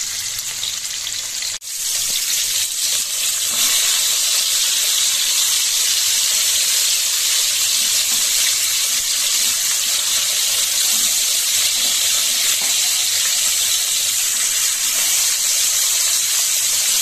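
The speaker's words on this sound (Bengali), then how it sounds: "হলুদ লবণ মাখিয়ে রাখা মাছগুলো এবার ফ্রাই করে নেওয়া যাক" Chital fish pieces coated in turmeric and salt fry in hot oil, giving a loud, steady, close hiss of spattering oil, with a sharp clatter near the start.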